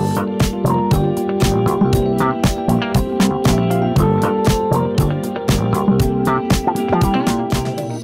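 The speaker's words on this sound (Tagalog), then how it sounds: "dito naman record namin yung tunog ng mga batong kaskas ng mga gulong." Bicycle tires roll and crunch over stones in a rapid, uneven series of gritty clicks and crackles, close and loud, with no talking.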